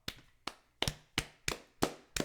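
About seven separate claps in a steady, slightly uneven rhythm, close and fairly quiet, as a few people on a podcast applaud, with no talking over them.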